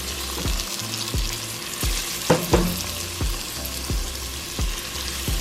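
Carrots and onions frying in a pan for a spaghetti bolognese, stirred with a spatula: a constant sizzle punctuated by regular scraping knocks and taps against the pan.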